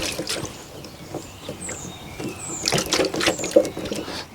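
Water sloshes and trickles inside the rear spoiler of a Jaguar F-Type as it is tilted, in soft, irregular splashing gurgles up close.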